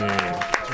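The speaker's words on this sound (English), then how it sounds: "Big round of applause as they leave the" Brief applause from a pub quiz show audience as contestants leave the stage, light scattered clapping under a voice talking throughout.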